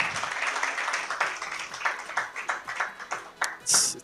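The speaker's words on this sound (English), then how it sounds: "Let's give them a round of applause." Audience applause for a debate team at a youth tax justice event: a broad wash of clapping from a crowd, moderately loud and steady, swelling with individual claps toward the end.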